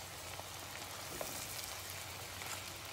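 Tomato paste frying in a pan for bulgur pilaf, giving a steady fine crackling sizzle with scattered tiny pops over a low kitchen hum, fairly soft and continuous.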